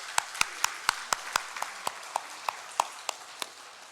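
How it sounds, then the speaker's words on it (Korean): A church congregation gives a short round of applause, about a dozen distinct, fairly sparse claps in an irregular rhythm, heard in a reverberant room with no voices. "우리 수고하신 모든 분들께 감사의 마음으로 박수를 드리겠습니다"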